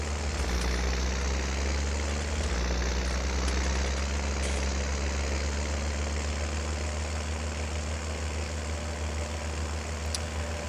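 A tractor engine in Farming Simulator 19 drones steadily at low pitch, a constant mechanical hum with a brief shift in tone early on, then holding even and moderately loud.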